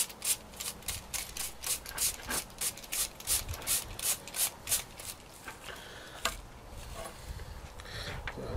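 A fine hand tool scratches detail into a hardening concrete patch on a broken bench corner, giving a quiet, rhythmic series of short rasping strokes close by.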